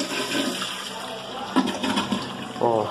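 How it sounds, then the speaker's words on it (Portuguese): A toilet with a Hydra Max flush valve is flushed, giving a loud, close rush of gushing water that swirls and drains for several seconds while a person talks over it. "Então você vai dar uma descarga e ver se o fluxo de água tá bom."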